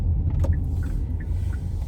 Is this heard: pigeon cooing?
no